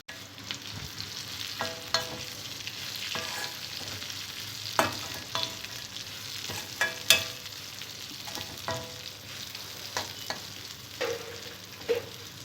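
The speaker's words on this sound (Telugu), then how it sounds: "ఉల్లిపాయ ముక్కలు బాగా ఫ్రై అయిన తర్వాత ముందుగా ఫ్రై చేసుకున్న దొండకాయ ముక్కలు వేసుకోవాలి" Ivy gourd pieces and onions sizzle in a pan, a steady frying hiss broken by repeated sharp clinks and scrapes of a spoon stirring, close and moderately loud, with no talking.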